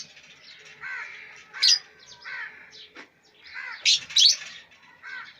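Caged lovebirds chirping up close, with repeated sharp tweets and squeaky calls in short bursts separated by brief pauses, no talk.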